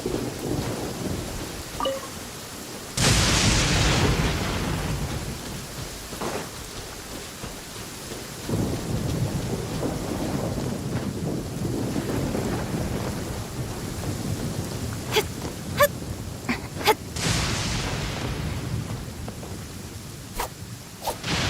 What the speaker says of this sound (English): Quite a downpour. Nothing will get done until it clears.